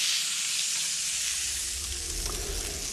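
Thick steak sizzling over a charcoal grill, a steady close crackling hiss throughout with faint pops toward the end.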